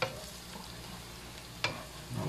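Garlic fries in butter in a pan for buttered shrimp, a faint soft sizzle with a couple of brief scraping stirs, quiet and close.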